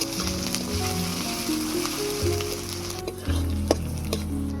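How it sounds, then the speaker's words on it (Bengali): Onion and garlic paste fry in oil in a pan, sizzling steadily and loudly with occasional stirring scrapes, no voices present. "রসুন বাটা, পেঁয়াজ রসুনটাকে লাল লাল করে ভেজে নেব।"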